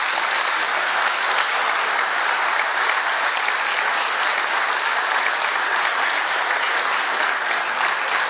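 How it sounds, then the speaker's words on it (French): Audience in a hall at a Belgian political anniversary event in Estaimpuis clapping steadily, a dense, loud, sustained applause that holds evenly throughout. "je voudrais qu'on applaudisse l'équipe actuelle qui m'accompagne au collège"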